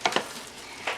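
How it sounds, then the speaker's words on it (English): Jalapeno slices stirred through syrup in a pot: two quick soft scraping strokes close together, a quieter stretch, then one more brief stroke near the end. "I'm just going to stir these so they're well coated in our syrup"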